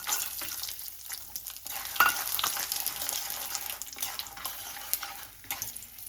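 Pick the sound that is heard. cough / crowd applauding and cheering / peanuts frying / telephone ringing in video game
peanuts frying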